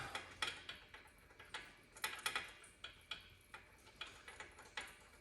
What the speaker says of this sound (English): I can hear the leaking of fluids.